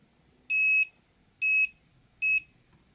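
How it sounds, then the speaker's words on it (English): Three short, high-pitched electronic beeps signal electrical contact during a SIM socket repair on a Motorola Moto G phone, sounding at even intervals over faint background noise, clear and close. "It will beep in a moment if it makes contact"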